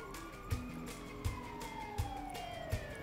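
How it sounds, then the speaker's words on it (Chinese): An ambulance siren in the GTA video game wails with a sliding tone fairly faintly. Rhythmic low thumps come roughly every 0.7 seconds beneath it. "哎呀，有救护车！"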